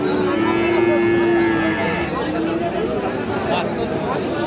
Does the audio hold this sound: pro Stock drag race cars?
no